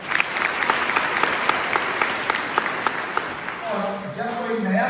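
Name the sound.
audience clapping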